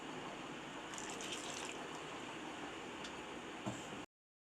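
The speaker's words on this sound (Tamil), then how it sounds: "இன்னும் கொஞ்சம் தண்ணி சேர்த்துக்கலாம்." Water pours steadily into a pot of simmering village chicken curry, a soft continuous gushing stream lasting several seconds before cutting off, faint and close with no voices.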